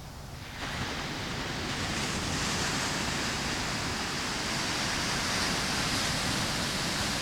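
Ocean surf at Monterey, a broad, continuous roar of breaking waves that swells in just after the start and holds steady, loud and close, with some wind noise and no speech.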